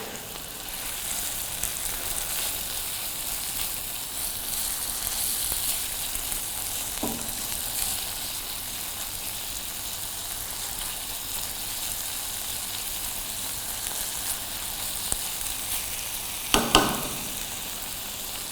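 Onions and green chilies frying in a pan, a continuous soft sizzle and hiss close by, with a brief spoon clink near the end and no speech.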